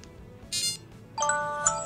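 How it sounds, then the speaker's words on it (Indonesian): A Samsung Galaxy SmartTag's button is pressed twice to set off a ring: a short electronic chime, a pause, then a longer bright melodic ringtone, moderately quiet and heard alone. "Kita tinggal pencet Smart Tech ini 2 kali,"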